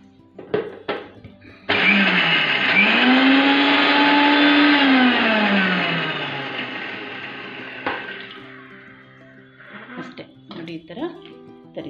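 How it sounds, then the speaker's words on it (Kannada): A mixer grinder whirs loudly as it coarsely grinds ginger, garlic and chilli. Its steady whine runs for about six seconds, with the pitch dipping and easing as it winds down, and brief clatters and a voice come before and after. "ಇದನ್ನು ಮಿಕ್ಸಿ ಮಾಡ್ಕೊಂಬಿಡಿಪ್ಪ"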